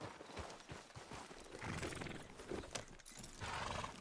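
A horse in a video game trots along, hooves clip-clopping in a quick, uneven rhythm against a busy in-game ambience, moderately near and without any talk.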